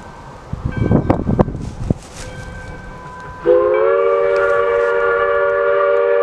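Steam locomotives 462 No. 110 and 040T No. 1 running push-pull on a festive decorated train. Rustling and clanking give way to a loud, sustained whistle blast that holds steady from the middle to the end.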